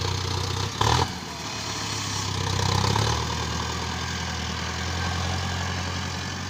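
A JCB loader's diesel engine runs steadily while filling a manure trolley on a village farm, a continuous low rumble with a brief loud clank early and a swell in revving around the middle.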